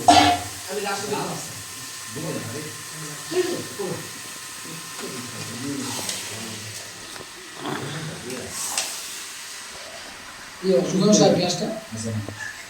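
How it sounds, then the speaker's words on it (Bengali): Duck meat frying and sizzling in a wok at a nighttime Christmas picnic, a steady low hiss running beneath near, continuous talk, with a louder burst of sizzle and stirring near the end. "হাঁসের মাংস কষানো দেওয়া হয়েছে এখন কড়াইতে"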